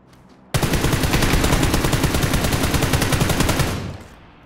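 Rapid automatic gunfire in a shooter video game from a teammate's weapon, a loud sustained burst of evenly spaced shots lasting about three seconds before cutting off.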